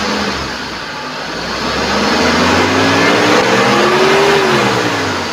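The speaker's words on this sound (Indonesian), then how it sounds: "sekarang coba ini di RPM 1000 kita naikkan ke RPM 3000" A 2017 Mitsubishi T120SS pickup truck engine steadily revs from 1000 to 3000 RPM, its pitch climbing and holding at a higher whine over a constant loud rumble, with no voices.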